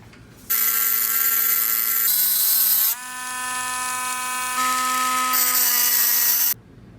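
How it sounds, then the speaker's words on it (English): A rotary tool grinds a Subaru switchblade folding key in a loud, continuous high-pitched whine whose pitch shifts as the load changes, close and steady for about six seconds with no voices. "I'm just gonna little bit grind out using some mechanical tools, rotating machine."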